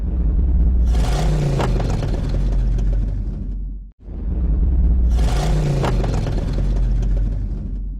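A 2019 VW Amarok pickup driving on the road, a steady loud low rumble of engine and tyre noise with a rising whine, swelling and dipping in two matching passes.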